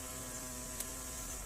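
A large bee, Wallace's giant bee from Indonesia, gives a steady droning buzz that stays even and fairly faint, with no voices.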